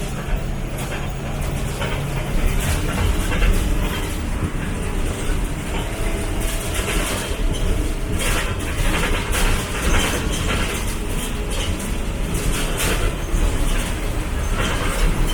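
A Maharashtra State Transport bus rolls through a cool forest stretch in the Konkan region, producing a steady, loud engine and road rumble with rattling body noise throughout, no one talking.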